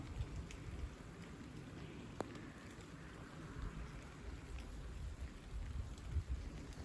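Light rain from a passing trailing shower patters steadily outdoors, a faint, soft hiss with scattered drops and no voices.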